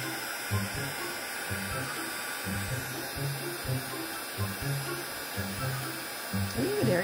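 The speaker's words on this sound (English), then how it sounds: "Get my little heat gun back out again." A small craft heat gun blows a continuous airy whir over a 3D paper card, steady and close, with a faint rhythmic low pulsing underneath throughout.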